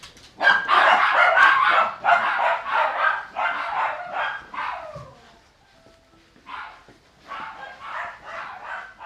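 Several dogs bark in repeated bursts in a grooming salon, loud and close, with shorter yips and pauses between volleys and a brief voice in the background.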